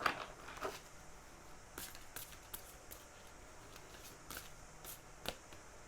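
Tarot cards being shuffled by hand, a soft papery riffling and a few sharper snaps spread across a quiet room, faint and close with no talking.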